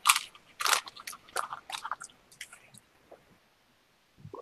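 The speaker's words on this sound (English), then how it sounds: "Well, everybody's just munching on something." Close, crisp crunching and munching of food at a friends' dinner, a rapid cluster of bites and chews that thins out into softer, sparse chewing.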